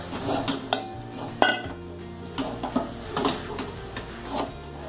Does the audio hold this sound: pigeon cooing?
no